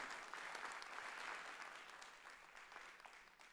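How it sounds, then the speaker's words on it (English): An audience at a closing-remarks session for a research poster event applauds the organizing committee, a dense round of clapping from many hands that stays fairly even, a little distant and soft, then tapers gently toward the end. "So please give a round of applause for the organizing committee."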